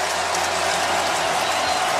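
Stadium crowd on its feet at a 2022 Titans vs Jaguars NFL football game on a Saturday night, a dense, steady roar of cheering and applause that fills the whole moment without a break.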